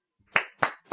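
At a technical talk on object-oriented AJAX, three sharp, close hand claps ring out in quick succession, each crisp and separate, with silence before the first.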